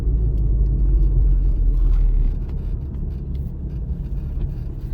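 A car drives along a road during a driving lesson, a steady low engine and tyre rumble heard from inside the cabin that drops slightly in level partway through, with no talking.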